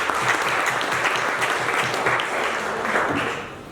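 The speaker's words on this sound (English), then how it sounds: "Give all of you, yourselves, a warm round of applause" Warm round of applause from guests at a welcoming cocktail dinner for public enterprise chief executive officers, steady dense clapping across the room that fades slightly at the end.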